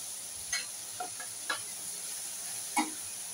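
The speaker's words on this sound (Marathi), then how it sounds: "आता गॅस स्लो करायचा आणि ही मेथी घालून सॉट करून घेते" Fenugreek leaves sautéing in melted butter over low heat, a soft steady sizzle with a few light spatula scrapes spaced about half a second to a second apart, quiet and close, no talk.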